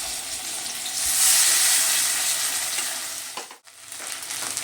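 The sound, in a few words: tilapia fish frying in oil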